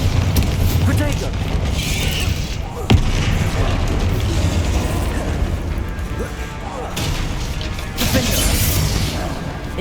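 A Bombarda spell blast in the video game Hogwarts Legacy: a sharp crack near three seconds within a dense wash of booming, crashing combat effects that persists throughout, with a voice casting spells over it.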